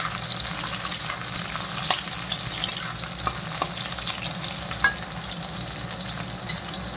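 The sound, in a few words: lightly frying vegetable peel in hot oil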